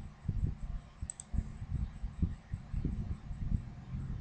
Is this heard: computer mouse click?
yes